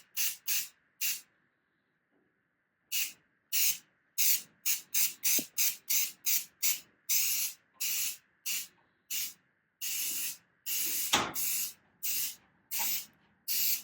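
An aerosol can sprays a light sealer coat onto a mandolin body in short hissing bursts, about two dozen in all, coming quickly one after another after an opening few and a brief pause.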